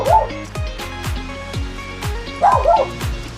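A dog barks repeatedly and close by in a quick series of sharp woofs, with a couple of higher yipping, whining bursts mixed in near the start and later on.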